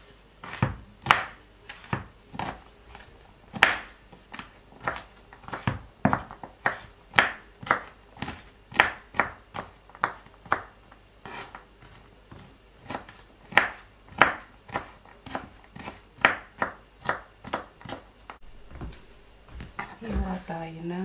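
A small knife chops garlic on a board in steady, crisp, close knocks, a few dozen strikes in an even rhythm with short pauses.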